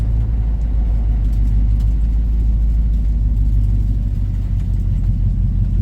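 A 1971 Chevelle back on the road after decades, its engine rumbling steadily and loudly while driving, a deep continuous low drone with no talk.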